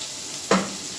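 A short scrape of squash and zucchini being stirred in a pan for ginataang kalabasa, one quick swish against a soft background sizzle.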